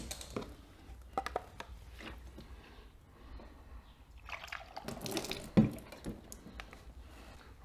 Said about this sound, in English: One last time, top off the radiator.